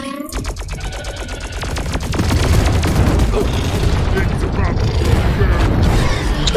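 Sustained rapid gunfire from Deep Rock Galactic, with dense automatic bursts that build into a loud, continuous fusillade with echoing booms.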